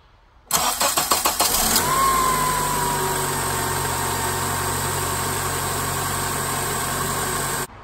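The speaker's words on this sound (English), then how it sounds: "Now we're going to start the car and hope that it still runs." A 2003-2007 Honda Accord four-cylinder engine cranks for about a second, catches and settles into a steady close idle that runs until it cuts off.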